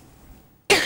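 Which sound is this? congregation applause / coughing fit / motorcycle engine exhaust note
coughing fit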